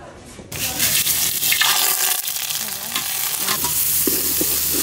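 Biryani is stirred in a pot over a wood-fired stove on a rooftop, with loud scraping and a wet sizzling rush right after a quiet opening, and faint voices in the background.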